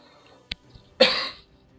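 A person coughs: one short sharp cough, then a louder harsher cough or throat-clearing burst a moment later, close and alone.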